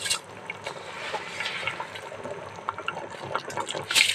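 Water is poured into a cooking pot for masoor pulav rice, giving a soft, steady splashing and trickling that stays fairly quiet throughout.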